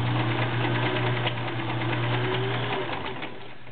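Vintage Kenmore model 1703 sewing machine running steadily through a very wide zigzag stitch, a close, continuous motor whir with rapid needle chatter, slowing slightly near the end.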